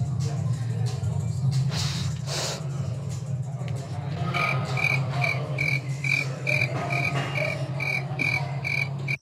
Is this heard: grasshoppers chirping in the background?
yes